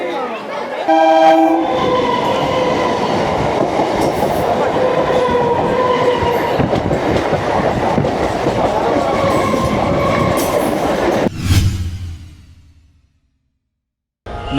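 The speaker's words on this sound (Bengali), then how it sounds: "আজ চলে এসেছি আপনারা দেখতে পাচ্ছেন হাওড়া স্টেশন" A train rumbles loudly through Howrah railway station, with a horn sounding near the start and steady wheel and carriage noise continuing before cutting off abruptly near the end.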